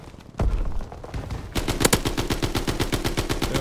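Gunfire in Call of Duty WW2 multiplayer, a single loud shot followed by a rapid burst of automatic fire, close and dense.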